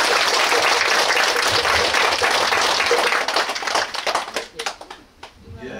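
Large audience applauds loudly at a Buddhist temple groundbreaking ceremony after a monk's dharma talk, dense steady clapping that thins out into scattered claps near the end.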